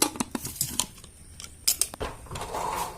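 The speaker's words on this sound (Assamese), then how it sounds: "এতিয়া মই কুকাৰখন মাৰি দিম ইয়াতে" A pressure cooker lid is pushed shut and locked in a home kitchen, giving a quick run of sharp metallic clicks and clatters, close and fairly quiet, with brief pauses between them.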